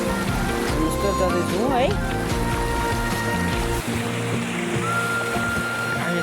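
The Bheri river rushes past in a constant broad wash of flowing water, while a voice talks loudly over it throughout.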